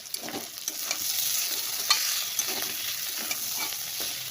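Potatoes frying in a pan hiss with a steady bright sizzle close by, with soft stirring scrapes and small pops scattered through, and no voices.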